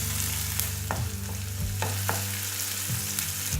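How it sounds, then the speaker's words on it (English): Onions fry in a pan toward golden brown, a loud, close, steady sizzle with a few sharp stirring clicks and scrapes over a low hum. "will fry it till it turns golden brown in color"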